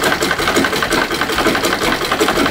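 A pedal-operated sewing machine stitches continuously, a loud, close, even mechanical whirr with no pauses and no talking.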